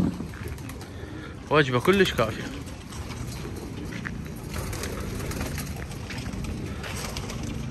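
Homing pigeons on a rooftop coo softly and intermittently beneath someone talking, with low outdoor background noise throughout.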